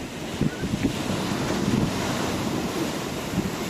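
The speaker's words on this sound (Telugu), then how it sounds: "పెద్ద పెద్ద అలలు అయితే వస్తున్నాయి." Big ocean waves breaking on the rocks at Kanyakumari, a continuous roar of surf mixed with strong wind buffeting the microphone, loud and close.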